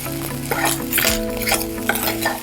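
Rice with salt and pepper powder stirred in a hot pan, a spoon scraping and tapping the metal in quick strokes over a soft sizzle, close and clear with no voices.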